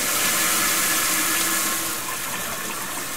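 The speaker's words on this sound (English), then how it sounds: "cool tap water" Cool tap water gushing from a kitchen faucet over a pressure cooker pot sitting in the sink, a loud, steady rushing splash that eases slightly toward the end, with no voices.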